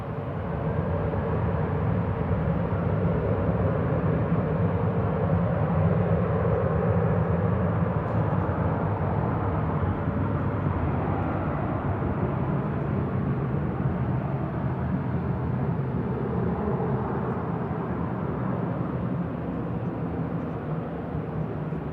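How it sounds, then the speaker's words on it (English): An Airbus A321-200 Classic at Manchester Airport, heard as a continuous low jet engine rumble and roar, steady and moderately distant for the whole stretch, with no talking. "Off to Frankfurt, DAISR, A321-200 Classic, flight 949 there."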